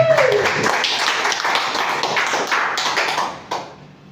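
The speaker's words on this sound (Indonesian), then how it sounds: "Tepuk tangan dulu buat orang luar biasa" Audience clapping at an indoor health seminar, a dense burst of claps that holds steady for a few seconds and then thins out near the end, with a brief tone at the start.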